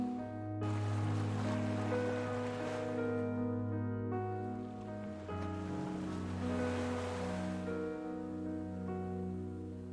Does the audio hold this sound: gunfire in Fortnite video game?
no